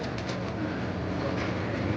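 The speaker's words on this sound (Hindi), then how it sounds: "ये ऊपर कबूतर बैठे हुए हैं माशाल्लाह।" Pigeons perched atop a small historic mosque in Madina, their soft cooing blended into a steady, dense wash of outdoor crowd and ambient noise throughout.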